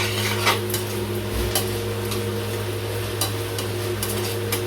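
Green banana flower sautéing in a pan for a Tamil-style kara kuzhambu, giving a steady low sizzle with occasional stirring scrapes and utensil clinks against the pan, close and continuous, with no talking.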